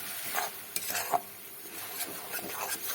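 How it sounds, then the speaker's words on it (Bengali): Onion and garlic paste sautés over medium heat in the same oil used for frying prawns, a soft sizzle with repeated close scraping and stirring strokes of a spoon against the pan. "এবার ওই একই তেলে দিয়ে দেব পেঁয়াজ রসুনের পেস্ট"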